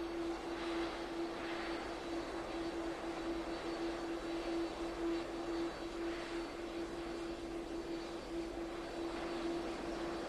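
An Air India aircraft at an airport gives off a steady, distant engine roar with a constant whining tone, faint and unbroken throughout, with no voices.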